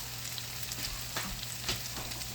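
Potatoes cooking for corn chowder in a pot on medium-high heat, a soft steady sizzle and bubble with a low hum underneath and a few faint clicks and pops.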